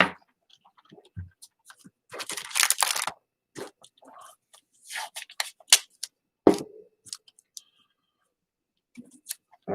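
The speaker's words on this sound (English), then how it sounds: "I'm going to take this and run this through the die cutting machine" A manual die cutting machine cranks paper through for stamping and card making, giving intermittent crunches and clicks with one longer gritty grinding burst, close and fairly quiet, with no talking.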